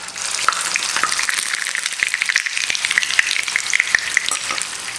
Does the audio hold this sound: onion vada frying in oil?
yes